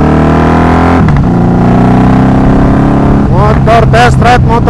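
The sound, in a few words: Honda Magna 750cc V-twin 1984 motorcycle engine on test ride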